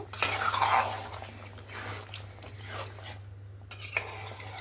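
A utensil stirs chicken with potato and capsicum in a pan, giving soft scraping and clinking strokes against the metal over a steady low hum, with no talking.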